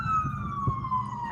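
Ambulance siren outside a Walmart, a sustained wailing tone slowly falling in pitch, moderately near, over low traffic rumble.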